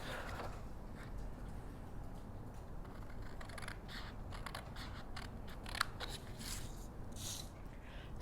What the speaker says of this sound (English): I'm going to score those or cut those vertical lines down to my 2 1/4 line here